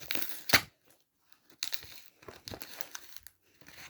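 Paper wrapped around a parcel of books crinkles and tears in several bursts, with a sharp loud rip early on and quieter crumpling and ripping after brief pauses, close by.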